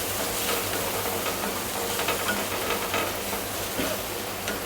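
Red amaranth greens (lal shak) frying in a pan over a medium-low gas flame and being stirred, a steady soft sizzle with faint scraping throughout, no voices.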